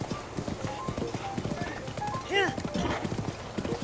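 A horse gallops in the video game Zelda Breath of the Wild, its rapid rhythmic hoofbeats clattering steadily throughout, with a brief high whinny-like sound partway through while someone talks over it.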